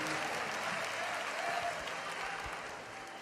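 A church congregation applauding during a service, a soft, steady wash of clapping heard from a distance that fades slightly toward the end.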